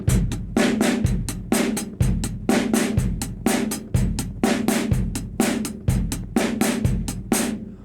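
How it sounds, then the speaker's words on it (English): Drum kit playing a classic 1950s rock and roll beat with pairs of eighth notes on the snare: a steady, driving pattern of bass drum, snare and cymbal hits, close and loud, with no voices. "2 eighth notes on the snare drum. Real popular beat from the 50s."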